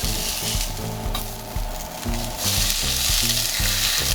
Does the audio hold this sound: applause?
no